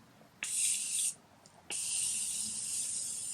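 Makeup setting spray misted from a bottle, two bursts of loud, close hissing, the first short and the second long and sustained.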